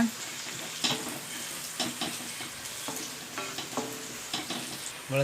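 Onions, ginger garlic and red and yellow capsicum sauté in a pan for mutton fried rice, a close, steady sizzle with repeated spatula scrapes and taps in a loose rhythm and no voice.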